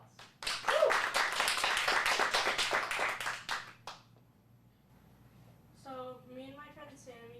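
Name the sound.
applause, clapping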